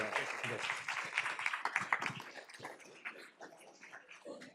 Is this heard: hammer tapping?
no